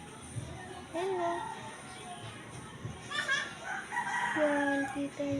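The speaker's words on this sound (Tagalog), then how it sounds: "Yan, ibon yun." A rooster crows near a small shop in the Philippines, with other birds calling around it. Its long, harmonic calls rise over steady background noise while a person talks nearby.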